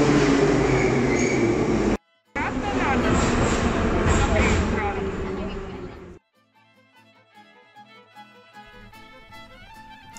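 Loud rumble of a Kyiv metro train running on rails, with a brief cutout, then a quieter stretch as the car slows, with faint tonal squeals.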